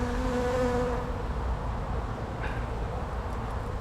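Angry honey bees swarm around an abandoned, long-unvisited hive during an inspection, giving off a dense, steady buzzing drone that stays close and continuous the whole time.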